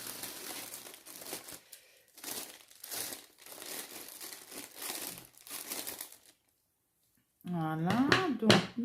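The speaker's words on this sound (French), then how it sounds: "Là, je coupe le sachet." A plastic bag of cross-stitch supplies being cut open, giving close crinkling and rustling in bursts, then a brief silence before a short final crackle.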